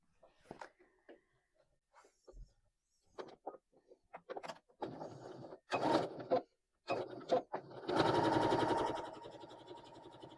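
A sewing machine runs a quarter-inch seam along a fabric pouch, starting in short stop-start bursts and ending in a longer steady whir, fairly faint and close.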